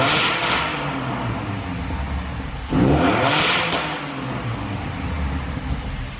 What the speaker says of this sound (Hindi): ये थी आवाज़ पोर्शे की, and this is very loud 911 with वेल्वोट्रॉनिक exhaust